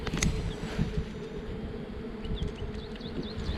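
Honey bees hum around an open hive during a walk-away split, a steady close buzzing of many insects with occasional louder passes and faint handling noises.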